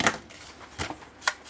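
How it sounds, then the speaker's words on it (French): Scissors snipping off the excess around a paper tab on a vintage scrapbook album page, three short crisp cuts spaced apart, close and fairly quiet. "Je vais le terminer avec mon ciseau."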